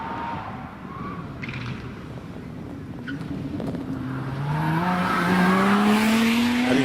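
Lotus Exige V6 Cup with a 3.5-litre supercharged engine charging up the Harewood hillclimb: engine note rising steadily through a gear as the car approaches and grows louder, with a brief squeal of tyres, no talk.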